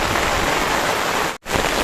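Heavy rain hammers down at a riverside camp deep in the forest, a loud, continuous hiss broken by one very short dropout near the end.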